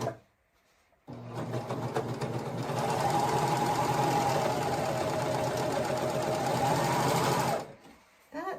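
A serger sewing machine runs in one steady, continuous whir for several seconds at close range, starting abruptly and stopping just as sharply, with no talk over it.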